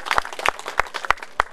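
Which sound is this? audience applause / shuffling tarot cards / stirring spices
audience applause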